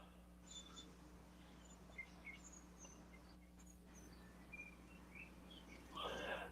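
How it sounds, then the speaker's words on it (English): Birds sing at sunset outdoors, with faint, scattered high chirps and short tweets spread across the clip over a quiet hum, plus a brief louder rustle near the end. "I hear the birds in the background singing a tune."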